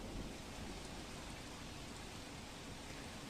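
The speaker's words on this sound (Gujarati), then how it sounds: "સમગ્ર અમરેલી જિલ્લામાં અવિરત વરસાદ વરસી રહ્યો છે" Incessant monsoon rain falling across Amreli district in Gujarat, a continuous broadband wash of downpour with no voices, steady and even from start to finish.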